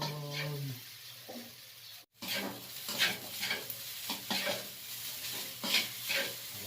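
Sinangag, garlic fried rice, stirred in a pan, with repeated scraping and tossing strokes over a soft sizzle after a brief pause, close and moderately quiet, no talking.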